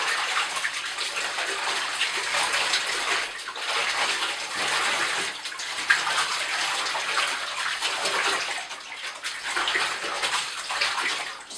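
Cloth diapers and a sprinkle of detergent are swished around in bathtub water, making a steady, close, rushing and sloshing wash of water that lasts throughout with no voices.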